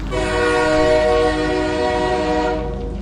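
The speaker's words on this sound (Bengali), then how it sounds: "ট্রেন সেও সমবেগে চলতে থাকে খু ঝিক ঝিক ঝিক ঝিক করে" A train runs steadily in a rainy night scene, a dense drone of layered tones and rumble holding level for about three seconds before easing slightly near the end, with no voices.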